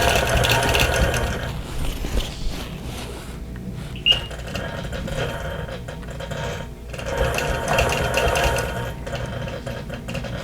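A sewing machine stitches along a quilt edge, whirring steadily and close in two main runs separated by a quieter pause with a brief click.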